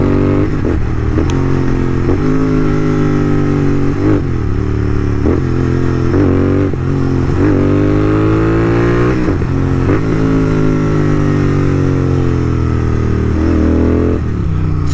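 Modified Royal Enfield GT650 twin-cylinder motorcycle, loud and close, with the engine revving and dropping repeatedly through downshifts, its pitch rising and falling with sharp blips between gear changes.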